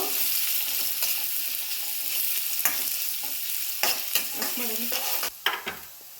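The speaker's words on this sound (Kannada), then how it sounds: "2 ದೊಡ್ಡ ಸೈಜ್ ಈರುಳ್ಳಿ ಕಟ್ ಮಾಡ್ಕೊಂಡಿದ್ದೀನಿ. ಅದನ್ನು ಚೆನ್ನಾಗಿ ಹುರ್ಕೊಬೇಕು." Two large chopped onions fry in a pan for a paneer butter masala, with a soft continuous sizzle broken by scraping, clinking stirs, close and moderately loud.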